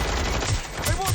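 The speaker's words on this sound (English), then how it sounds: "They won't stop shooting!" Gunfire in a Watch Dogs Legion firefight on Xbox Series X: a quick burst of several sharp shots over about a second, mixed with game noise.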